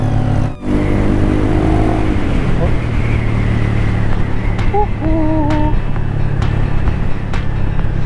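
A Yamaha XMAX 300 motor scooter engine hums steadily up close, rising in a rev with a few whining tones, while a person talks over it.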